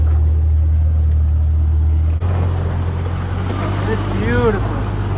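A vintage Willys Flat Fender Jeep with a Muncie SM420 gearbox runs in second gear, low range, a steady low engine drone throughout, with a person talking over it in the second half.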